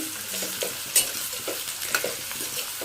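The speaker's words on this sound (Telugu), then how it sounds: "ముక్కలు అయితే వేగుతున్నాయి కదా" Bitter gourd pieces fry in a shallow layer of oil in a pan, a steady sizzle broken by repeated scraping and stirring strokes of a spatula, fairly close and with no talking.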